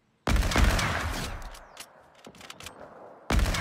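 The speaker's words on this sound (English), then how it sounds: "Someone just got sniped by me out there from 100 meters." Two loud, sharp sniper rifle shots in Fortnite mobile, one near the start and one near the end, each with a ringing tail and scattered smaller game sounds in between.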